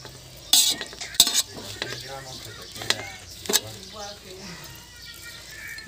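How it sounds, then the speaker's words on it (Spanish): Migas with peppers and chorizo being stirred in a frying pan, with a utensil scraping and clattering in sharp bursts over a soft sizzle while someone talks intermittently. "Y el aceite que ha sobrado aquí también se lo voy a echar. El aceitillo de escurrir esto. Bueno, y ahora ya todo esto se revuelve así."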